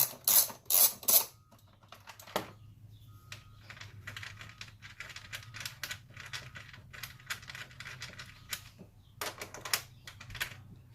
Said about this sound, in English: You're gonna need the same 10mm socket. Remove these two bolts right here.